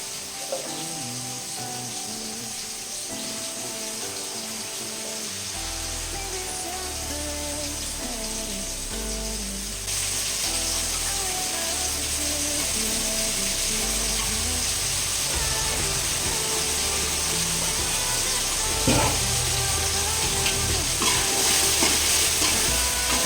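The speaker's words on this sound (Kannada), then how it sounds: "ಎಣ್ಣೆಲೇ ಬೇಯುತ್ತೆ ಬದನೆಕಾಯಿ" Brinjal cooking in hot oil for vangi bath after tomatoes were added gives a steady, close sizzle and frying hiss that builds louder, with stirring scrapes now and then and no talking.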